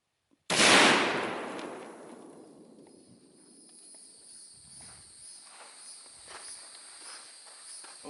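A single loud shot from an AK-50 rifle fitted with a new barrel extension and relocated gas port, fired outdoors. The sharp crack rings out in a long decay before crickets and faint ambience take over.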